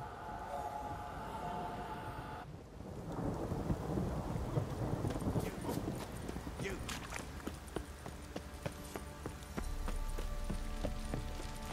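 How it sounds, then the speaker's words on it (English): Heavy rain pours steadily with rumbling thunder and scattered sharp cracks in The Witcher 3: Wild Hunt, preceded briefly by a tonal musical passage. "This downpour's a bastard, it is."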